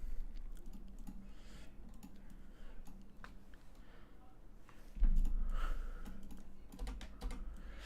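Keystrokes on a new computer keyboard, close and fairly quiet, tapping in uneven bursts with short gaps, with a low background hum and a faint breath or snort.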